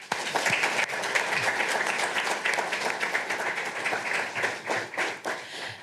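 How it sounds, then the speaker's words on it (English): A banquet audience gives a round of applause at an alumni weekend keynote, a dense, steady clapping that fills the room for several seconds and tapers slightly at the end. "I would like to give them another round of applause."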